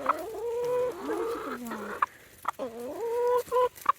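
Chickens clucking and squawking nearby on a farm, a string of rising, strained calls followed by short sharp clucks, fairly loud and with no speech.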